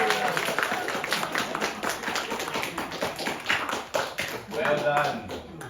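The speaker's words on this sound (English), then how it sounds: "Now let's have a big round of applause to Mr." An audience claps for a presenter at a corporate lift-industry presentation event: a lively burst of many hands clapping close by, with voices and cheering mixed in throughout.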